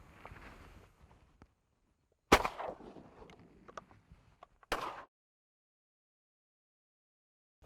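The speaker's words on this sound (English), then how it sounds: "One shot, bird down." Two sharp shotgun blasts at teal ducks during a duck hunt near Seadrift, Texas, loud and close, a couple of seconds apart, with faint outdoor sounds around them and silence after.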